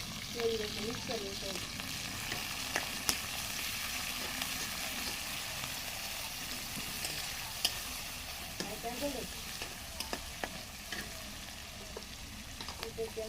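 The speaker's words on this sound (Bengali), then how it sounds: "রান্না শুরু হয়ে গেছে, তেল দিয়ে দিল দাদি। কাঁচামরিচ, পেঁয়াজ, এত নুন মিক্স করে" Green chilies and onions frying in oil for a shrimp curry with Malabar spinach, making a steady sizzle throughout, with occasional stirring clicks and scrapes, in a village kitchen.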